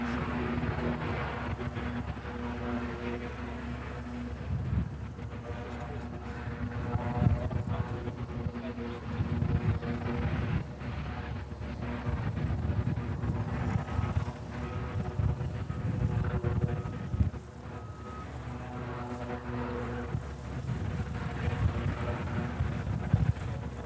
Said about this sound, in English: there's a med flight plane over there doing engine runs